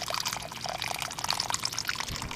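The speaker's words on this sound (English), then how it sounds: "Emptying the water from my cooler." Meltwater from a cooler's leftover ice pours out in a steady, close splashing stream, continuous and fairly loud throughout, with no voices.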